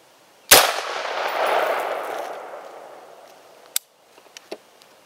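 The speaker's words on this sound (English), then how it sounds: "Next is going to be the AR-15 with a 55 grain lead core bullet," An AR-15 firing a 55 grain lead core M193 bullet at a steel plate: one loud, sharp crack with a long rolling outdoor echo, then a few faint ticks and clicks.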